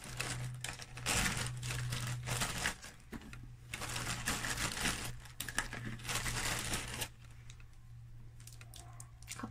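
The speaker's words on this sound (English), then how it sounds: "I have this little Ziploc bag." A small plastic Ziploc bag is handled close up, giving busy crinkling and rustling in bursts with short pauses between them.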